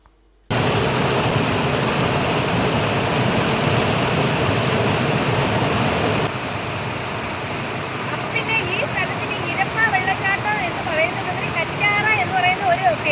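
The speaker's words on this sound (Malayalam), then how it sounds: "നമ്മുടെ ഇരപ്പ വെള്ളച്ചാട്ടം പൊളി തന്നെയാണ്" Rushing water at the Irappa waterfall roars loud and close in a constant broadband rush. It eases a little partway through, with faint voices rising over the flow near the end.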